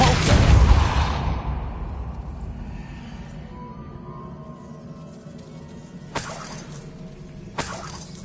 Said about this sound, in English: Depulso.